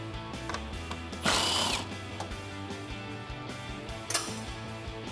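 A ratchet fitted with a 10mm socket and extension loosens grille bolts on a 2014-2015 Chevrolet Silverado 1500, with rapid clicking pawl rhythms and a couple of louder metallic bursts, close up and without speech.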